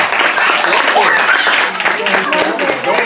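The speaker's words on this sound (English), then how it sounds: "Give her a round of applause" An audience claps and applauds for a child helper at a magic show, a dense, steady burst of clapping lasting a few seconds.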